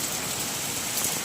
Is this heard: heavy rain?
yes